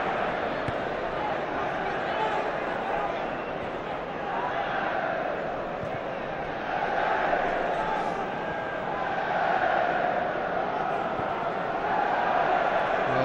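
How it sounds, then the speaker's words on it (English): A football crowd at Celtic v Hibs roaring in approval after a nutmeg, a steady dense wash of cheering and noise that swells slightly in the second half, with commentary running over it. "The crowd loved it."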